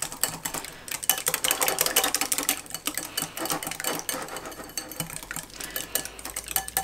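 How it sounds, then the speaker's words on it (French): A small whisk beats egg, applesauce and almond extract in a bowl, giving fast, rhythmic clicking and tapping against the sides that runs continuously and close by, with no talking. "je vais prendre un petit fouet et je vais mélanger l'œuf et la compote et l'amande"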